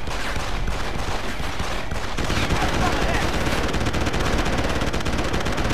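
Sustained automatic gunfire from Deus Ex: Human Revolution, loud and unbroken for several seconds with no pause for reloading, dense rapid bursts filling the whole stretch.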